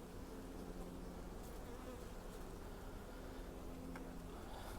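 Honey bees from a young nucleus colony, drones among them, hum in a dense, steady drone throughout during hive installation, with faint handling noises now and then.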